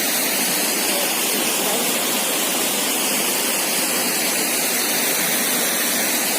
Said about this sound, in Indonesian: air terjun Lembah Sunyi